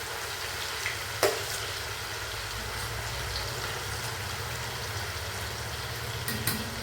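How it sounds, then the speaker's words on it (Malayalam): Vella choora fish frying in a pan for pickle, a faint, even sizzle running throughout with a few soft clinks and no talking. "വെള്ളച്ചൂര മീനാണ്, അത് വറുക്കുകയാണ് അച്ചാറിന് വേണ്ടി."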